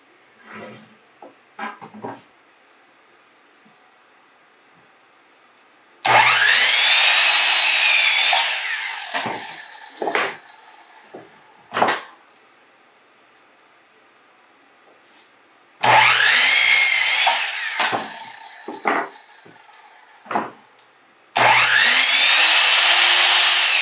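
A power saw cuts through wooden boards in three long, loud bursts, each with a rising whine as the blade bites in and then trails off. Short knocks and clatter of wood handling fill the gaps between cuts.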